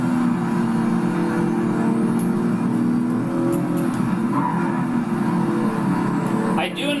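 Nissan Z Proto race car in the video game Project Cars 3 on PS5, a steady droning engine note holding at a constant pitch throughout, with faint tyre and track noise and a brief change near the end.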